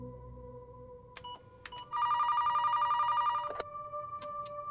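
An office telephone rings with an incoming call, a loud electronic warble held for over a second, set among a few sharp clicks and faint steady tones.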